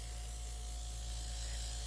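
An airbrush makeup machine sprays a very fine mist of foundation in a continuous soft, faint hiss over a low, steady hum.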